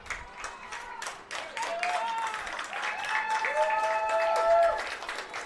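Home crowd at a women's college soccer match claps and cheers in a rising burst, with whistles and shouts mixed into the applause.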